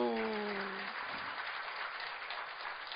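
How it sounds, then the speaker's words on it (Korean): A church congregation at a Sunday worship service claps together in sustained, dense applause, following a brief voice at the start, then continuing alone and evenly to the end. "하나님께 영광의 박수"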